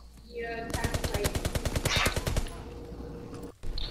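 Rapid automatic gunfire from Call of Duty: WWII, a sustained burst of evenly spaced shots lasting about two seconds, loud and close, followed by quieter game sounds and a brief sharp noise near the end.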